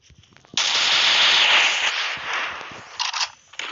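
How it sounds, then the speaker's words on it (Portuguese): A grenade goes off in a video game: one loud, sudden burst that spreads into a long hissing decay, followed by a few short sharp bangs near the end. "Toma essa granada."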